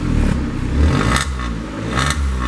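A Peugeot/Citroen car engine with 108,000 km on it is revved during an exhaust check. It sounds loud and close as a rising, clattering engine roar with uneven surges.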